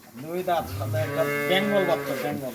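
A cow on a dairy farm gives one long, close, drawn-out moo lasting a couple of seconds, rising and then falling in pitch.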